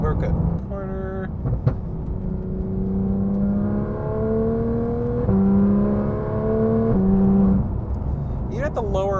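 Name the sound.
Porsche sports car engine revving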